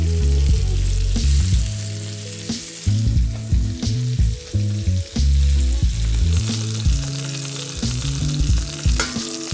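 Chicken sizzles steadily in melted butter in a pan, a constant close frying hiss with occasional stirring, while a melodic musical tune plays prominently underneath.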